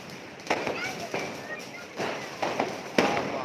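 Firecrackers pop during Diwali in sharp, scattered bangs at a distance, several in quick succession, with voices talking faintly underneath.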